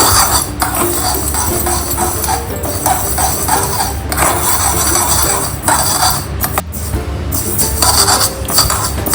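Spices fry in a pan for mango pickle, with repeated metallic scraping and clinking as they are stirred, close and fairly loud over a low cooking hiss, no talking.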